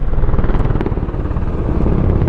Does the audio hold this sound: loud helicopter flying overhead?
yes